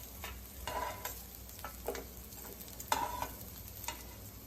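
Tandoori mutton chops frying in a pan, a soft continuous sizzle with intermittent scrapes and clinks as the pieces are turned over, close by and fairly quiet, no speech.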